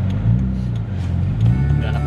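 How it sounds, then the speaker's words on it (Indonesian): Steady engine drone and rushing road noise heard from inside an old Mitsubishi Galant sedan on a road trip, with a fast motorbike passing nearby; loud and continuous, with a slight swell as it goes by. "Motor kencang-kencang banget."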